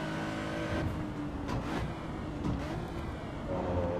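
Simulated car engine from the racing game Assetto Corsa EVO, a continuous droning tone that rises and falls with throttle, steady and fairly loud with no talking over it.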